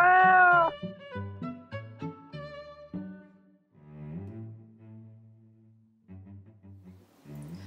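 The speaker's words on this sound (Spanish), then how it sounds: "Y el gato Milo maulla a coro." A cartoon farm cat meows repeatedly in a chorus of tonal, wavering cries, loud and close, starting with a long strong meow followed by a string of shorter ones, with no talking.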